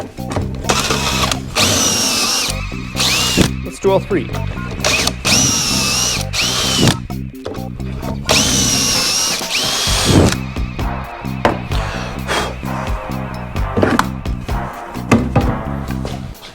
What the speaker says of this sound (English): So I'll drill through here.